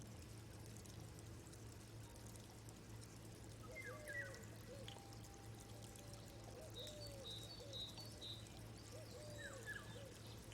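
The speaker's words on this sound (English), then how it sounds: "Oh yeah, a little owl." A small owl hoots softly several times over a meditation ambience of trickling, pouring water and a low steady hum, with scattered bird calls and no talk.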